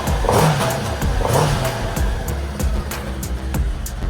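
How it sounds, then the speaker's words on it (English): Segway SX10 WX 4x4 utility vehicle exhaust revs in several quick throttle blips rising and falling over a running idle, loud and close. "Give you a little bit of the exhaust now."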